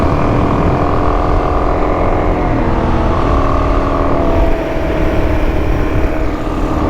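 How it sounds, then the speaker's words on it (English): A motorcycle ridden on a highway, its engine very loud and close with a rough, steady droning roar, pitch shifting slightly as it changes speed, with wind buffeting throughout. "This whole bike sounds incredibly loud all of a sudden."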